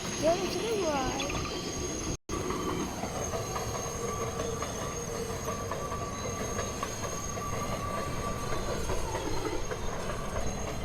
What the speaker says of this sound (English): This is a Manhattan-bound 1 train.